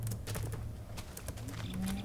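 A cow moos in the video game Minecraft, Tekkit Classic modpack, a short, moderately faint low droning call repeated over about two seconds amid light game background noise, with no talking.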